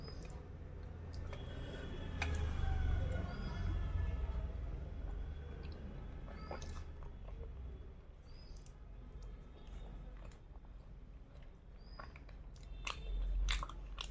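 Close, soft chewing and biting of chapati eaten with vegetables and fish, with irregular moist crunches and squishes repeating steadily and no talking.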